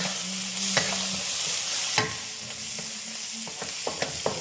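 Green onions stir-fry for lo mein in a hot pan, giving a continuous close sizzle with several sharp metallic scrapes and taps of a utensil tossing them, and no talking.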